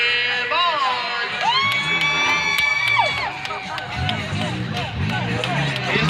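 Crowd cheering and whooping in the stands at a Turlock monster truck show, with shouts and children's yells layered over an announcer's voice and a revving engine rising and falling.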